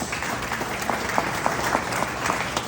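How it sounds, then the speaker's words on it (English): Guests at a Rotary Club inaugural gathering clap for the lieutenant governors, a continuous round of applause with a few sharper individual claps standing out near the front. "Let's all give all of them a big round of applause"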